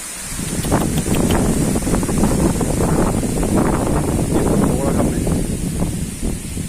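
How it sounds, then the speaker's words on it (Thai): Strong outdoor wind beside a rice field gusting across the microphone, a loud continuous rumbling buffet with a rustling hiss, while someone talks over it. "โอ้ยลมครับ"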